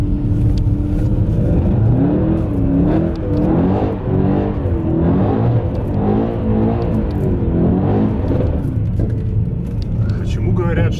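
Mercedes-AMG E63 S engine held against the rev limiter in second gear, a loud sustained roar with wavering pitch and a pulsing buzz that stays steady through the whole stretch, with voices talking over it.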